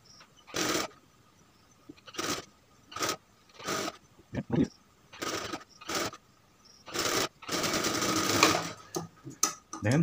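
A sewing machine stitches the neckline of a kameez in short bursts, whirring for about a second at a time with pauses between. One longer run comes near the end, and the machine sounds close and clear.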